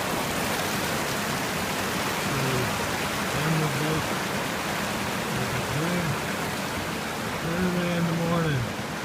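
Steady broadband rush of a mountain creek flowing beside a campsite at the end of Jade Lake in the alpine high country, continuous and fairly close, with a few faint voices briefly over the water.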